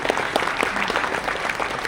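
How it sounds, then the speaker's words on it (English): An audience at a tourism convention inauguration in Puri applauds, a brief, dense wash of clapping from a large crowd, continuous and fairly loud. "He needs a big applause from the."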